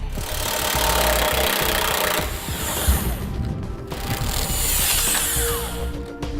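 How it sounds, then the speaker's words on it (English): On a 2007 Jeep Liberty, a power tool with an 18mm socket loosens bracket nuts. Two loud, sustained mechanical whirring bursts are heard up close, with a brief pause between them. "on each side of our vehicle, we're going to be taking off this bracket, and we'll be using an 18mm socket"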